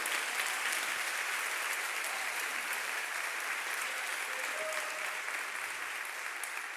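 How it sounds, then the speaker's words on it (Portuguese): A worship congregation applauds the Lord with sustained, even, dense clapping that fills the whole stretch at a steady level without pause. "Dá um aplauso ao Senhor por isso."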